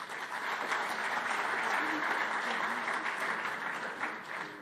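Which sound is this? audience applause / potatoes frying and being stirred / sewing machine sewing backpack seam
audience applause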